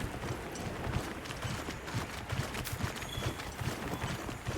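Horse mount galloping in Monster Hunter Wilds: steady rhythmic hoofbeats thudding at a quick even pace throughout, close and clear over a soft outdoor wash, no talk.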